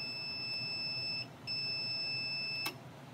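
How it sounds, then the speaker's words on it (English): A stair lift unit beeps to signal that its charger is unplugged or not charging: a steady high electronic tone sounds for over a second, stops, then starts again, and a brief click follows near the end. "The reason why that unit is beeping, it's because it's letting you know that the charger has been unplugged or it's not getting any charge."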